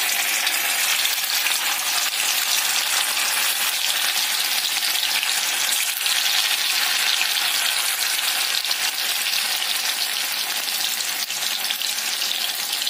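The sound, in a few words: kothimbir vadi (coriander fritters) frying in oil on low flame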